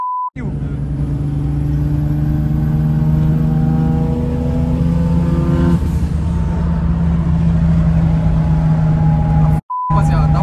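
A Toyota Supra with a turbocharged 2JZ engine revs hard and loud from close inside the car, the pitch sweeping upward through the gears in a sustained roar, with short beeps at the start and end.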